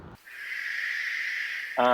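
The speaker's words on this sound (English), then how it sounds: "do what we call hooting or playback, which uses a masked owl call" A recorded masked owl call played back in a forest to draw a response: a sustained harsh, hissing screech lasting over a second, loud and alone, with brief noises at either end.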